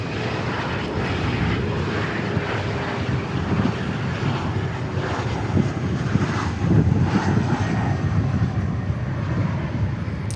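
An Air France Airbus A350 jet at Dallas Fort Worth makes a steady engine roar that swells slightly partway through, alone with no talk.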